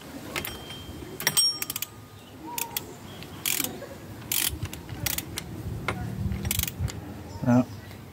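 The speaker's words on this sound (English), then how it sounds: "Once again, using the flex head angle ratchet." A flex-head angle ratchet snugs bolts on a Volvo during a serpentine belt, power steering pump and alternator job, giving scattered close metallic clicks and tool clatter in short bursts.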